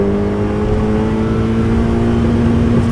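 A car engine held against the rev limiter: a loud, steady, high-pitched engine drone with a strong constant tone that holds unbroken for three seconds and stays close.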